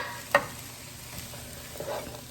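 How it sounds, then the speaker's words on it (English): Vegetables for a chicken casserole are stirred in a pan over soft frying, with a sharp scrape near the start and another quieter clatter near the end, and no one speaking. "Give this a stir."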